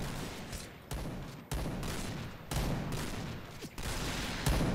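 Gunfire from the online shooter game Point Blank, with repeated bursts of rapid fire about every second, moderately faint and with no talk.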